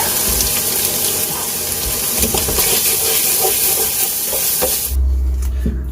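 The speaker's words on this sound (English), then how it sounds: "So now roasting a little bit. Became very hot." Burger patty sizzling in a very hot pan, a steady loud hiss and crackle of frying throughout, with a dull clatter near the end.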